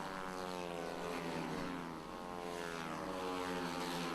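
Stock 140 pit bikes race up the hill at a pit-bike race, a loud, continuous, buzzing blend of small high-revving engines with rising and falling pitch as they pass.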